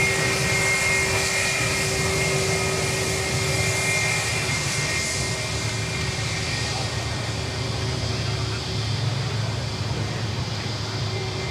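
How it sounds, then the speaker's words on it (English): A China Eastern airliner taxis past at Sydney Airport, its engines giving a continuous loud roar and whine that stays steady throughout, with no talking over it. "the China Eastern just taxiing past"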